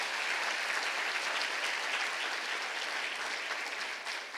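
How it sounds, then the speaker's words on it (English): Sustained applause from an awards ceremony audience celebrating the winners, a dense steady wash of many hands clapping at constant loudness with no voices on top. "let's give them a round of applause for the great work they've done"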